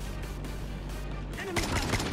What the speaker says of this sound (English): This man's using an M16.